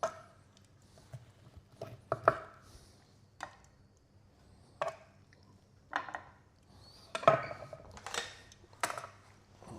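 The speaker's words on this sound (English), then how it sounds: "I'm just going to cut these in half." Knife cutting through cooked sweet corn cobs on a board, a few distinct, close, soft chopping thuds and crunches spaced apart, with light clatter between cuts and no talking.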